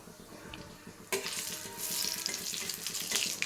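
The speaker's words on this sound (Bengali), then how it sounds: "এই যে জিরাটা দিয়ে দিলাম" Whole cumin seeds hit hot oil in a pan and burst into a loud, steady sizzle after about a second of quiet, crackling and spitting continuously with no talk.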